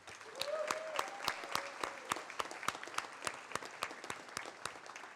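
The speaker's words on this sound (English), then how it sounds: "Please give them a round of applause." Sustained applause from an audience at a university honors college spring graduation celebration, steady dense clapping with sharp individual claps standing out across the whole span, alongside a faint voice.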